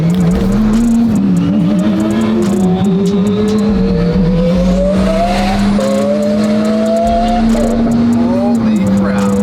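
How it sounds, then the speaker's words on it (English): A high-revving twin-turbo V12 Lamborghini SV engine screams loudly and steadily, pitch climbing with a faint turbo whistle, while excited voices shout over it. "now you have the high pitch sound with some turbo noise"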